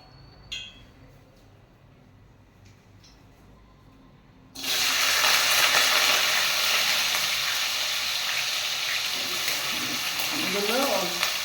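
Strips of potato, cut long and thin for roti noodles, drop into hot oil after a quiet start. A loud, steady sizzle of deep frying fills the rest, with light stirring clinks near the end.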